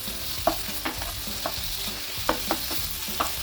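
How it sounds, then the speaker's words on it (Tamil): Prawns for pickle are stirred and tossed in masala in a hot pan, with scattered scraping stirs over a low continuous sizzle, close and moderately quiet. "நல்லா வந்து அந்த மசாலாஸ் ஒவ்வொரு ப்ரான்லேயும் கோட் ஆகிற அளவுக்கு நம்ம வந்து இப்போ மிக்ஸ் பண்ணி விடுறோம்"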